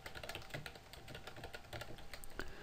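Quick, even clicking of keys on a computer keyboard, close and fairly quiet, running steadily throughout with no talking.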